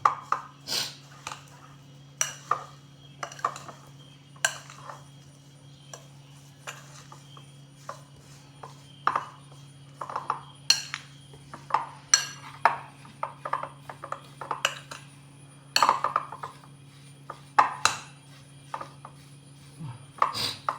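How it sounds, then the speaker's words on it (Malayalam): Soya chunks being mixed in a dish by hand or spoon, giving many sharp clinks and taps against the bowl in an irregular series, close and fairly quiet over a low steady hum. "ഇത് നല്ലോണം മിക്സ് ചെയ്ത് പിടിപ്പിക്കണം."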